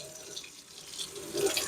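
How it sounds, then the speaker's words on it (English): King crab legs rinsed under a running kitchen tap, a steady close hiss and splash of water with faint shifting spatter, no voices. "So just rinsing these off and put them inside of our baking dish."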